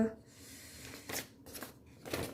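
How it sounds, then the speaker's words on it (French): Paper budget envelopes being taken out and handled, giving several soft papery rustles and slides in short bursts, close but quiet, with faint talking around them. "Donc on va sortir mes enveloppes."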